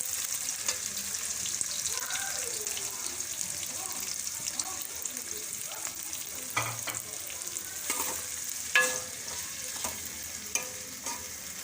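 Finely sliced onions frying in a pan for green peas chutney, a soft continuous sizzle broken by scattered spoon-scraping clinks and stirring knocks, fairly close, with no one speaking.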